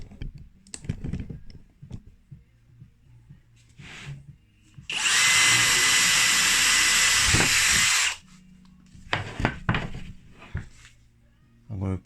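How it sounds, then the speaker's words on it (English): A power drill bores into a wooden skirting board in one loud burst of about three seconds, framed by clicks, handling noises and brief murmured talk. "So I'll start drilling the X marks the spot."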